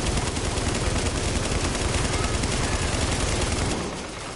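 Sustained rapid gunfire from a firefight in the video game The Division, dense bursts of automatic shots close and loud, tapering off in the final moments.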